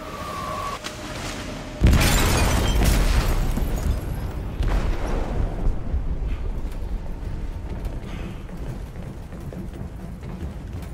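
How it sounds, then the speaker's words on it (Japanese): A bomb detonating aboard a ship in Detroit: Become Human, a heavy boom bursting in suddenly and rolling into a sustained, loud rumble with debris and crackle, fading into a dense low roar. "爆弾が爆発しました。"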